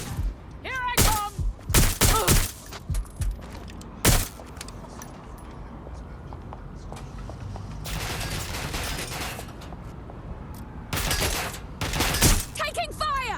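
Gunfire in the Watch Dogs: Legion video game comes in sharp, loud bursts and single shots, clustered early, at mid-clip and near the end, with shouting voices and mechanical clicks between.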